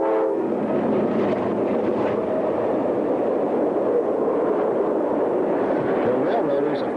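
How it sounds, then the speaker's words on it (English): A westbound Hanjin double-stack container freight train rolls past near Hornell on the Southern Tier, a steady loud diesel rumble and wheel noise filling the scene throughout with no break. "we see the westbound Hanjin stack train soon after passing through Hornell"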